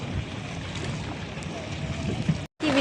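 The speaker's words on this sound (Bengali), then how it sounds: "কি বৃষ্টি, জোরে জোরে জোরে বৃষ্টি পড়ছে," Hard rain drums down on a boat in rough water, a dense continuous roar that cuts out for a split second near the end before resuming just as strong.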